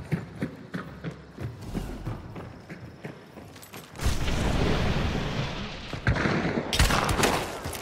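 Gunfire in the video game Hunt: Showdown cracks out as a few sharp shots amid hoofbeat-like clatter, followed by a loud sustained noisy roar.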